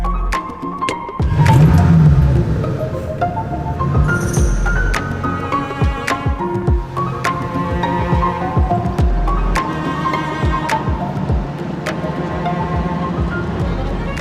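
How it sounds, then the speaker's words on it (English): A classic BMW 2002 tii pulls away at the start of a drive: a loud, close engine note climbs and shifts through the revs, with interior rumble throughout. "I think we need to go for a drive. Let's give it a go. Well, we'll start off slowly."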